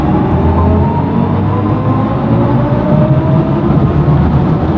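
BMW i4 eDrive40 electric sedan accelerating hard in sport mode, a steady loud low drive hum and road rumble with a faint rising whine, continuous throughout.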